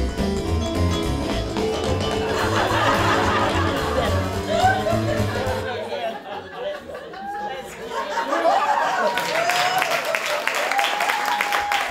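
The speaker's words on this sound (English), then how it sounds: "give them a big hand, please" An audience at a Lindy Hop dance event claps for contestants. The applause is mixed with chatter, laughter and music, breaks off briefly, then the clapping and crowd noise return.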